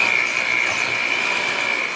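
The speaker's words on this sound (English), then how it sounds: "So it's gonna get loud. I'm gonna just blend this together." Electric hand mixer blending a smooth topping mixture for a veggie pizza, a steady high-pitched motor whine held continuously and loud throughout, with no talk.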